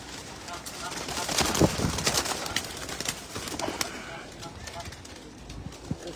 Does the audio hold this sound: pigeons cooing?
yes